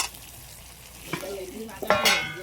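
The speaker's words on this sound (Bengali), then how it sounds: "যদি পেঁয়াজ আর টমেটো দেওয়া হয় যদি একটু এরকমভাবে ভেজে নেওয়া হয়" Onions and tomatoes frying together as a curry base for chicken kosha, a soft sizzle broken by a couple of louder scraping stirs of a spatula, with no one talking.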